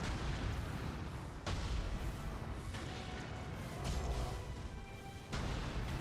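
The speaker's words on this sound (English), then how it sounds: "We can just throw shurikens at them and then just have them explode." Exploding shurikens bursting on enemies in Nioh 3, a run of heavy booms and cracks at irregular intervals over constant rumbling battle noise, loud and close.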